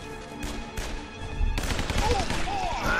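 An automatic rifle firing in a video game, with several rapid bursts of loud gunfire and a heavier volley in the second half over ongoing game sounds.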